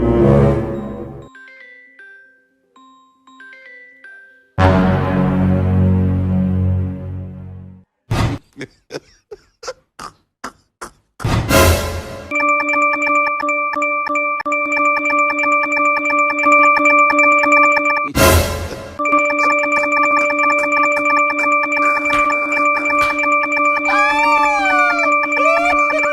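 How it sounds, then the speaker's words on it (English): A phone ringtone rings loudly and close, a sustained electronic melody that starts after a series of clattering knocks and short bursts, with no speech over it. "Dikon, your phone."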